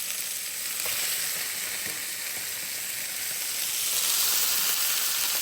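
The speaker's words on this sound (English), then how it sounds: "Once you get them from the air fryer, right in a big hot pan for 1 minute each side." Lamb chops fresh from the air fryer sear in a big, very hot pan with ghee, producing a loud, continuous sizzle and spitting crackle that swells slightly toward the end, with no voices.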